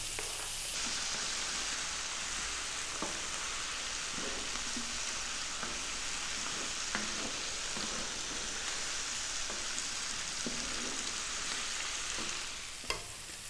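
Shakshouka spices and chili frying in a pan over medium heat, a steady loud sizzle with periodic soft scraping as the mixture is stirred, no talking.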